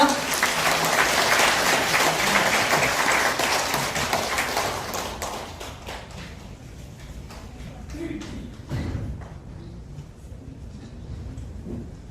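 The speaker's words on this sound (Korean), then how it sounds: "여러분 다시 한번 큰 박수 부탁드립니다" A seminar audience gives a big round of applause, dense and loud for about five seconds before it thins out into scattered claps and room noise.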